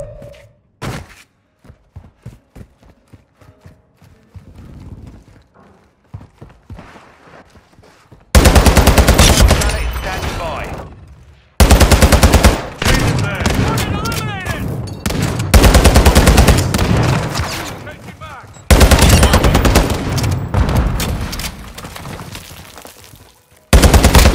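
Gunfire in Call of Duty: Modern Warfare II, starting with scattered single shots and short bursts, then giving way to loud, sustained machine-gun fusillades in several long stretches separated by brief pauses.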